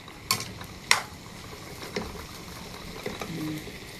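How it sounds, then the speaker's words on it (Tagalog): Okra and eggplant tumbled into a pan with other mixed vegetables and stirred, a few sharp clatters of utensil against pan over a quiet, steady background. "ilalagay na natin ang okra at saka ang talong. So, lagay na natin para matawag sari-saring gulay, halo-halo"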